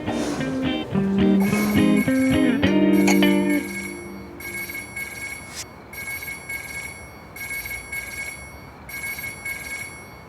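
A telephone rings in a Turkish drama scene, loud electronic ring bursts repeating in a steady pattern for the whole stretch, with a brief low musical swell at the start.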